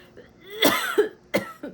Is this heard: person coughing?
yes